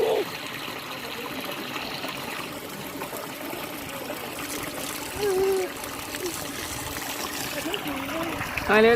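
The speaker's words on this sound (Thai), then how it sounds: "น้ำไหลแบบน่าเล่นมากเลย" Water drawn into a mango orchard flows steadily in a continuous trickling, splashing stream, close and fairly loud, with faint voices in the background.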